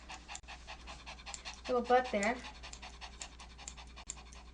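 A Pomeranian pants steadily, rapid rhythmic breaths close to the microphone while being groomed, running throughout under a person talking calmly in the middle.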